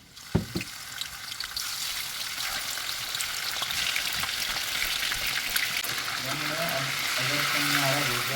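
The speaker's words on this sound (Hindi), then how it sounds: "मैं बनाने लगी हूँ यहाँ पे बिरयानी। तो सबसे पहले तो मैं ऑयल डालूँगी।" Oil poured into a cooking pot to start a biryani, giving a steady broadband frying sizzle that swells gradually with a few knocks early on, while a voice can be heard toward the end.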